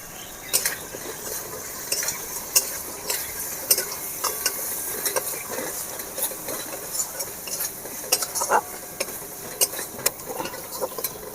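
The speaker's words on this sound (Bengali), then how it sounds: "মাংসের যেভাবে মশলা আমরা কষি সেভাবে মাংসের মতো কিন্তু মশলাটা কষিয়ে নিতে হবে" A utensil stirs spice masala with ginger paste, Kashmiri chilli, cumin and turmeric powders frying in a pan, steady sizzle under frequent scraping clinks of metal on the pan, no talk.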